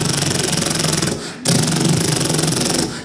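People vocally imitate a pneumatic drill breaking up concrete beside a highway, producing a loud, rapid rattling stutter that runs continuously, breaks off briefly midway, then resumes just as loud.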